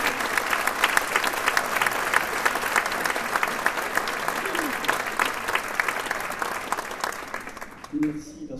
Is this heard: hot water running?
no